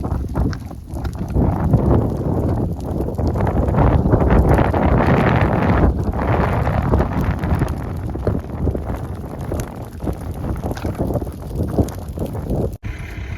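Strong wind buffets the microphone during an outdoor controlled burn, producing a loud, continuous low rumble with gusty swells throughout.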